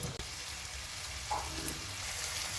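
Onions frying in a pan for tomato rasam, with a soft, steady sizzle that stays faint and close and has one or two small pops.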